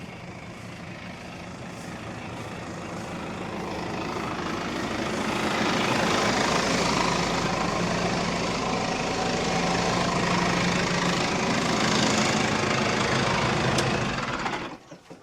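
A tractor engine idles steadily beside a round baler, a continuous low rumble with a knocking rhythm that rises slightly and holds for over ten seconds before it shuts off and stops abruptly at the end.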